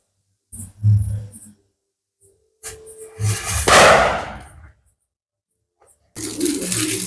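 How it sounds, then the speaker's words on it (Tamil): A sharp burst of a small Mini Lakshmi firecracker at Diwali crackles out between quiet gaps, with a brief hiss and rumble trailing after, near and fairly loud. "மினி லட்சுமி வெடி. இதை வெடிச்சு பார்க்கலாம்."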